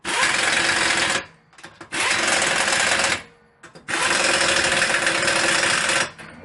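Power impact tool tightening wheel lug nuts in a cross pattern during rear brake and rotor work on a 2014 Nissan Altima, three loud sustained buzzing bursts of about a second each with brief gaps between.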